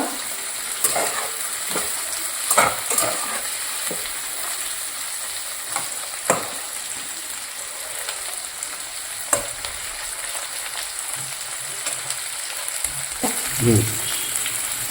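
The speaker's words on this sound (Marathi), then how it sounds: "गॅसवर थोडं याला परतवायचं आहे टमाटर गळेपर्यंत" Tomatoes sauté in a kadai over a gas flame, a steady close sizzle and fry broken by scattered stirring scrapes and clinks, with no one talking.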